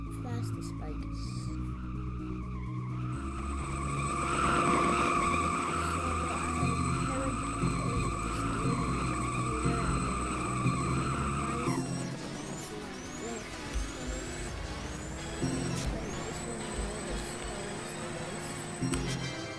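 A fast bike races in the Roblox game Driving Empire, with a steady engine drone and tire skids, shifting to a quieter rolling run with repeated squeals and bursts of game sounds.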